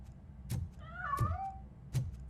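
A cat meows once in the Robocop: Rogue City video game, a clear drawn-out mew standing alone between a few soft thumps.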